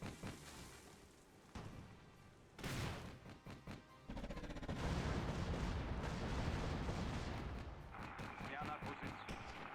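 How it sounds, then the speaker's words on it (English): Coaxial machine gun fire from a tank in the WWII strategy game Theatre of War, with bursts of automatic shots, heavy booms and battle noise building into sustained dense firing, with a voice speaking at times. "you have a coax machine gun."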